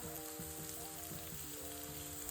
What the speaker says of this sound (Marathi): दोन कांदे टाकून घ्यायचे आहेत आणि कांदे थोडेसे हलके आपल्याला दोन ते तीन मिनिट छान प्रकारे अशा मोठ्या गॅसवर परतून घ्यायचे आहेत